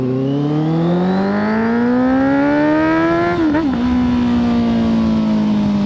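A Honda CB650F inline-four motorcycle with a 4-into-1 exhaust roars close and loud, its pitch climbing steadily under acceleration, dipping briefly at a gear change, then holding a strong, even drone.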